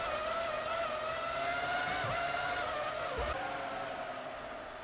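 Onboard engine of Fisichella's Formula One car racing Coulthard's McLaren at the 2003 Spanish race, a steady high-revving whine that shifts pitch through gear changes, with faint tyre noise and no talk.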